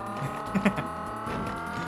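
A race car engine in the Choro Q video game drones steadily, a buzzing synthetic tone with a few quick pitch shifts, like a GT4-class car on track.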